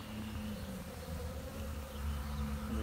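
Honeybees on orientation flights around a hive in Locust, North Carolina, make a steady, dense swarm of buzzing that fills the air, constant and close with a low hum underneath and no talking.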